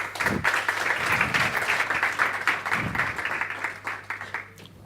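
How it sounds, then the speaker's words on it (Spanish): An audience gives a hearty round of applause after a presentation on a forest-fire prevention, detection and monitoring system, a room of clapping hands that swells, holds steady and tapers off near the end. "Así que un fuerte aplauso"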